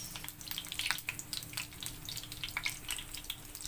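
Sliced bitter gourd (ampalaya) frying in a pan, a soft, steady crackle with scattered bright pops and light spatter, fairly quiet and close, with no talking.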